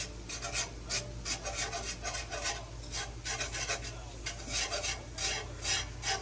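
A spoon scrapes and stirs flour with onions into grease in a home kitchen pan for gravy, giving rhythmic rasping strokes over a low background hum, close and steady with no talking.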